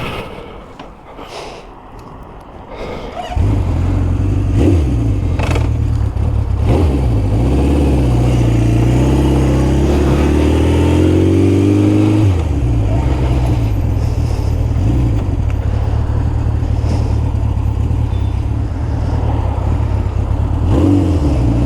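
Classic Honda CB750K motorcycle starting up and riding away, its four-cylinder engine rising through loud revving gear changes into a steady, close, throbbing drone.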